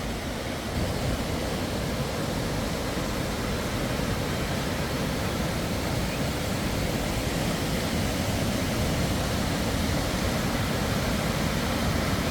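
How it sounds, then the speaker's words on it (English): Crabtree waterfall in North Carolina roars as a steady, dense wash of falling water, loud and unbroken throughout with no voices. "The waterfall is flowing down through this path."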